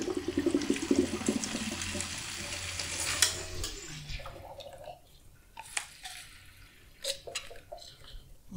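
Water is topped up into a custom PC liquid-cooling loop while the pump runs. A soft gurgling rush of water gives way to quieter trickles, bubbling and scattered drips.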